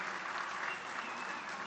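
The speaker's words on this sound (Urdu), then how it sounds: "بھرپور تالیاں" Steady applause from an audience at a school prize ceremony, a dense, even patter of many hands clapping continuously at moderate loudness with no voices over it.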